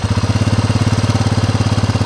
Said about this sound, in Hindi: ये मेरा इंजन स्टार्ट है इस समय, ये एक आइडल सिचुएशन है।